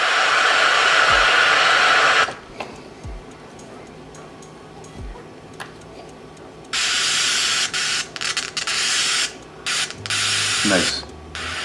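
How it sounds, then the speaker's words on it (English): Loud, steady broadband hiss of pink noise from a full-range car audio speaker fills the first two seconds, stops, then returns in bursts later, with brief low thumps between. "I'm playing pink noise. So the speaker's playing full range."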